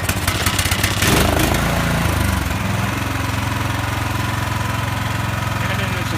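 A push snow blower's small engine runs steadily at slow speed while warming up in extremely cold weather, a continuous low mechanical drone with a louder, rougher burst early on before settling into an even idle.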